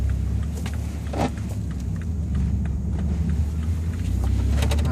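A 2014 BMW 2 Series runs through a tight U-turn, its engine a low, steady rumble inside the cabin with faint clicks and a slight rise in load partway through.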